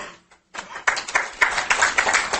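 An audience applauds at a live hypnotherapy demonstration on anxiety, starting after a brief hush with a few scattered claps that quickly swell into steady, sustained clapping from many hands.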